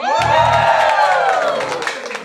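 At a religious gathering, a crowd cheers loudly with whoops and some clapping, holding a steady roar for a couple of seconds, while a low voice is faintly audible underneath.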